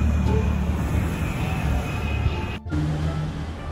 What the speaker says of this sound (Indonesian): Tuh ada pesawat lewat.